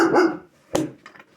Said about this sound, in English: That's my dog. And I had a feeling you might start barking,